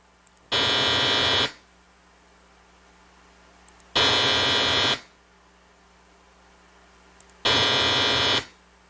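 A multitone test signal plays through a moving coil speaker as three identical one-second bursts of dense, buzzy, full-range tone. Each burst is separated by a few seconds of near silence and sounds loud and close.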